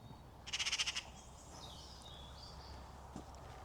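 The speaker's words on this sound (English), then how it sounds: "If you can pick up the sound of those birds, they're magpies flying over the garden" Magpies flying over an English garden in early March give a short burst of rapid chattering calls, fairly faint against quiet outdoor ambience, followed by softer distant bird sounds.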